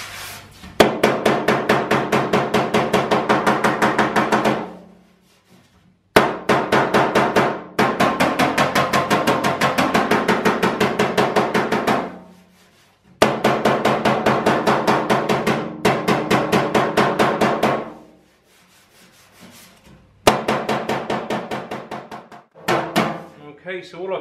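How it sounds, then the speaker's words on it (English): A panel hammer beats dents out of a car body panel with rapid, evenly spaced metallic taps in long bursts, loud and close, separated by short pauses. "rolling the hammer as well, glancing blows rather than full-on hits."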